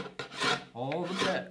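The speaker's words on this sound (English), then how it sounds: "So any I can get off with the card scraper" A card scraper rasps old, gummy finish off a wooden farmhouse dining table in two close, loud scraping strokes, with a brief pause between them.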